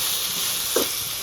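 Spiced kantola (spiny gourd) curry sizzles steadily in a pan with salt added, a continuous frying hiss with one brief scrape of stirring near the end.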